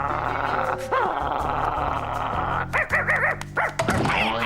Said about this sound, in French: T'es pas obligé de grogner.